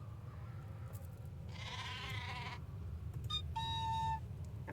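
Two quiet bleats from sheep in the video game Haunting of Castle Malloy, one after the other, each wavering over a low background hum.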